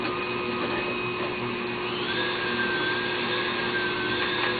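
Electric hand mixer whirring steadily as it blends chocolate heavenly dream pie filling with whipped topping, a loud continuous motor drone with a slight pitch shift midway.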